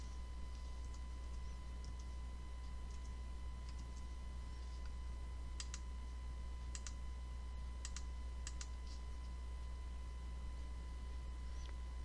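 Soft keystrokes on a computer keyboard while a point name is typed into setup software, a few scattered clicks over a steady electrical hum, with no voice heard.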